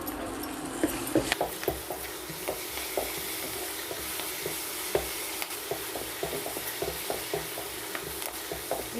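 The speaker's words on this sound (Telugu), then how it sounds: "ఇవన్నీ బాగా వేగిన తర్వాత చివరిగా కరివేపాకుని వేసుకుని బాగా ఫ్రై చేసుకోవాలి" Dried red chillies and curry leaves crackle in hot oil for a tempering, a steady close sizzle dotted with frequent small spatula ticks and scrapes.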